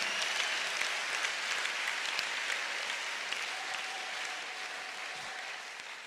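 A church congregation applauds continuously and loudly, with dense, steady clapping that lasts throughout and no pauses.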